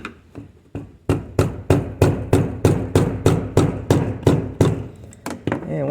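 A hammer taps a metal screwdriver in a steady series of sharp, close strikes, loosening a Polaris Ranger 570 fuel pump ring, around a dozen evenly spaced knocks with no talking.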